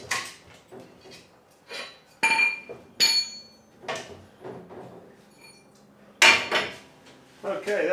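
Glass beads are poured into a wet blasting cabinet in several separate bursts of bright clinking and rattling, with quieter clatter and short pauses between the louder spills.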